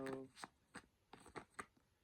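A tarot deck is shuffled by hand in quiet, close bursts of papery riffling and tapping at an uneven rhythm, with a brief voice heard at the start.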